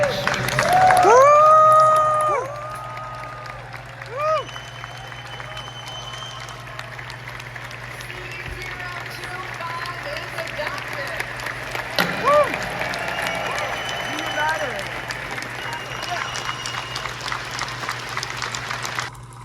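A crowd applauds and cheers at the Episcopal General Convention as two Michigan dioceses reunite, loud clapping and whoops at first, then fading into scattered claps and murmur, heard through a played video.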